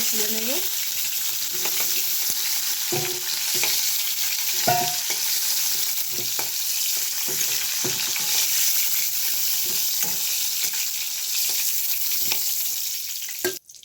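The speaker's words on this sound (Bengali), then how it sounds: "এবারে আলুগুলোকে ভেজে নেবো" Potatoes fry in a pan for a cauliflower, potato and prawn posto curry, a continuous sizzle broken by frequent scraping stirs.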